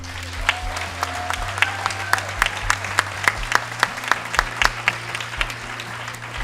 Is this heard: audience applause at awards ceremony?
yes